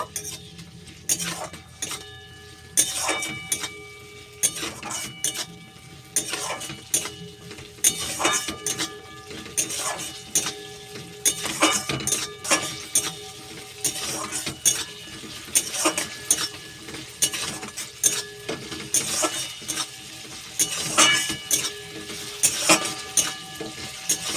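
Ginger garlic paste sautés in a pan as a spoon scrapes and clinks against the metal in a steady rhythm of repeated stirs over a soft sizzle, close and clear with no talking.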